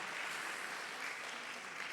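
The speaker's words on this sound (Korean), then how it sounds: "우리 이사님께 한 번 더 큰 박수 부탁드리겠습니다" An audience claps at a school admissions information session in a hall. The applause forms a steady, fairly faint wash of many hands with no pauses.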